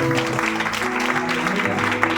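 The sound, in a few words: congregation clapping in church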